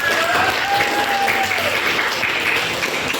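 Applause fills an Indonesian 8th-grade math classroom at SMPN 29 Bandar Lampung after a problem is solved, a steady dense patter of many students clapping close by, with a faint tonal whistle over the first seconds.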